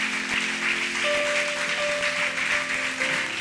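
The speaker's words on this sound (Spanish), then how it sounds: "Le puede dar una ofrenda de palmas al Señor." A church congregation applauds, a steady, moderately loud wash of clapping from many hands that holds without breaks, with faint tonal music sustained underneath.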